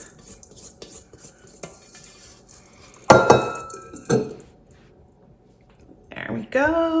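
A spatula scrapes and stirs shortbread dough in a mixing bowl, giving sharp close scraping strokes and a couple of louder bursts among quieter handling sounds, with a voice speaking during it.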